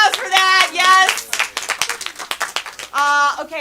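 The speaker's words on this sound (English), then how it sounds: "Give yourselves a round of applause for that" A group claps for themselves, with bursts of loud cheering and shouted voices at the start and end and a stretch of quick, sharp hand claps in between.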